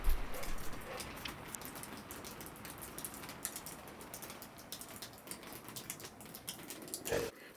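Rain falls steadily on a small Swedish farm in winter, a dense patter of drops on hard surfaces with occasional sharper ticks nearby, continuous and fairly quiet.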